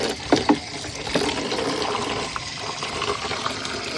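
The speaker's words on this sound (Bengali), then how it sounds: "আর এখন রাতসোনা স্নান করতে চলে এসছে।" Water is poured over a small child during a bath, a close, continuous splashing and gushing stream with a few sharper splashes at the start.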